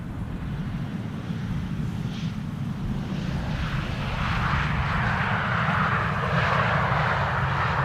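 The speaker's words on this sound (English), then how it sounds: "Narrow bodies preceding the A380, including TAP Air Portugal and Transavia now landing." Transavia Boeing 737 airliner landing at Amsterdam Schiphol, a steady, rising jet engine roar with whistling tones, heard from a distance and growing louder, with no talking.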